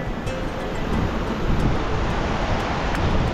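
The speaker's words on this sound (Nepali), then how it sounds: "साइडमा खोला मस्त बगिरहेछ" Steady rushing water from a river beside a mountain trail fills the scene without a break, a continuous broadband roar like a fast stream nearby, with some cold wind buffeting mixed in.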